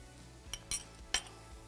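Spices are stirred in a cooking pot over a wood-fired heat source. A utensil gives three or four light metallic clinks against the pot over a soft background, quiet and close, with no speech.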